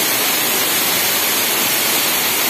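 Jukong waterfall at Nanga Mahap in West Kalimantan, a steady broadband rush of falling water, constant and loud with no breaks and no voices.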